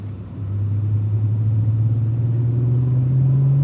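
A Cadillac V-Series race car engine on a racetrack drones with a steady low growl, pulling smoothly and slowly rising in pitch as the throttle comes on, close and loud with no talk.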